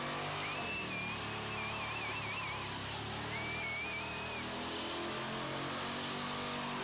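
A Dodge Durango three-row family SUV runs with a steady, low engine hum that holds even throughout, close and unbroken, with a faint wavering whistle-like tone drifting above it and no voices.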